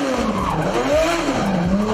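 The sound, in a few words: BMW E46 M3 engine screaming at high rpm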